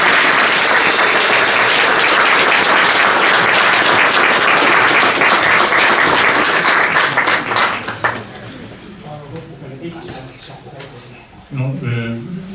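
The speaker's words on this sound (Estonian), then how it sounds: "Teeme aplausi ära ja siis küsime." An audience at a village hall event marking Admiral J. Pitka's 150th birth anniversary bursts into loud sustained applause that tapers off after several seconds, followed by a voice starting to speak.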